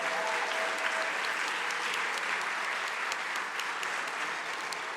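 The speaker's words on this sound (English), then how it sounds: "Can we get another round of applause for them, please?" Audience applause fills an annual community celebration hall, a steady dense wash of clapping that holds evenly for the whole stretch with no voices over it.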